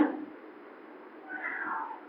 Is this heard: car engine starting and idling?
no